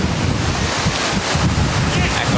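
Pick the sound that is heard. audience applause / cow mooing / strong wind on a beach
strong wind on a beach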